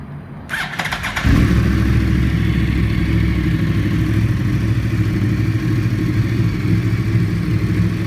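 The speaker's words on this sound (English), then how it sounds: "Let's rev it up a little and hear those pipes." A 2009 Yamaha R1 with a full Two Brothers carbon exhaust system starts up after a brief cranking whir, then settles into a loud, steady, close-up idle with a deep, throaty rumble that holds for several seconds.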